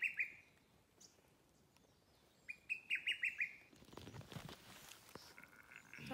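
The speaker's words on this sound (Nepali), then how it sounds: "चरा कराउँछ चरा" A bird calls in the Himalayan hills with two bursts of rapid, bright repeated notes, near and clear, over a faint outdoor background, followed by rustling and handling noise.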